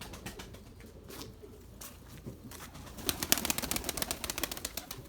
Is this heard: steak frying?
no